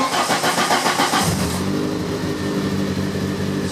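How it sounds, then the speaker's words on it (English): A 1983 Volkswagen Rabbit GTI engine cranks briefly with a rapid starter whir, then catches and settles into a steady idle, close by and loud with no voices. "So I'll fire it up and we'll try it."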